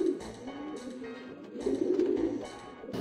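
Low, throaty cooing from a pigeon in the Jazzpunk video game rises and falls in soft repeated phrases, close and steady with no talk over it.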